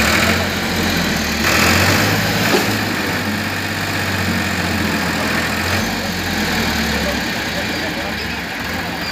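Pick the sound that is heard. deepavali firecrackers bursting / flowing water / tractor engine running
tractor engine running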